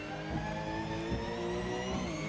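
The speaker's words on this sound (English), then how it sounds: "Donnie, your car sounds electric on the stream for some reason." Race car engine in a racing video game, set on the Nürburgring, hums as a steady, smooth whine with evenly held tones that sounds almost electric, fairly faint and without talk.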